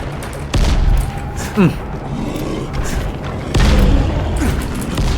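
Heavy booming blasts and rumbling bursts of explosions in Dying Light: The Following, one loud thud near the start and another later, over a constant dense roar.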